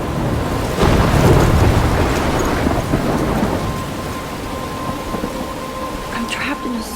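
Thunder rumbles over heavy rain during a storm in Life is Strange, a loud roll of thunder breaking out early and then fading into a constant downpour with wind.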